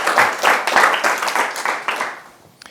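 A general assembly audience at the Geneva Red Cross breaks into applause, a dense burst of clapping that swells and then tapers off over a couple of seconds.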